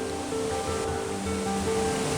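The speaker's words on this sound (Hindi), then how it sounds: "इसी झरने को एंजॉय करने के लिए सैलानी यहाँ पर आते हैं।" Waterfall near Kathiwada in forested hills, a steady broadband rushing roar of falling water with a faint tonal hum running underneath, continuous and even throughout, no voices.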